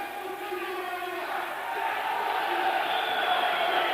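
Spectators cheer at a 1993 Macedonian wrestling match in the 62 kg class, a dense, steady crowd roar with shouts that swells slightly toward the end.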